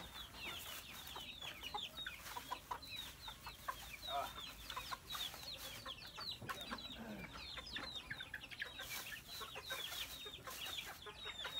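Chickens being fed cluck busily and continuously, many birds close together in a dense, chattering flock, with soft pecking and scattered louder calls throughout.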